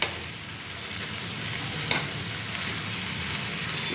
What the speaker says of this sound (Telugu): ఒక చేతితో కూర కలపడం అది ఇబ్బంది ఉంది